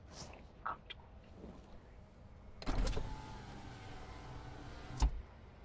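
A car's power window whirs open in a steady electric motor drone lasting a couple of seconds, bracketed by a couple of thumps, with faint vehicle ambience before and after.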